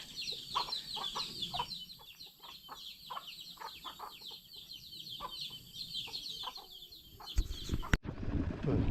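A chicken clucks in a rapid series of short clucks, fairly close, followed near the end by a burst of louder noise.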